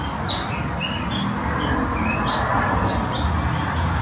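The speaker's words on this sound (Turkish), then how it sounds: "Çok güzel kuşlar ötüyor." Several small birds sing and chirp outdoors in cold Norwegian surroundings, bright repeated tweets scattered over a few seconds above a low steady background rumble, no talking.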